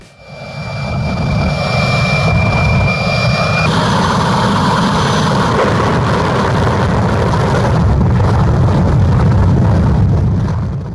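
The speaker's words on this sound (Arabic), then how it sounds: "الشخص هذا حط محرك نفاث بسيارته الصغيرة ذي" A jet engine mounted on the back of a small car gives a loud, steady roar, with a high whine at first that drops away partway through. It stays close and sustained throughout.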